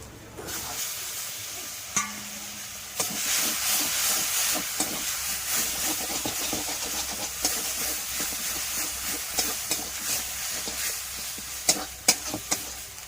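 Ginger paste and tomato puree fry with a steady hiss in a pan while a spatula stirs, scraping and clinking at irregular intervals, close and clear with no talking.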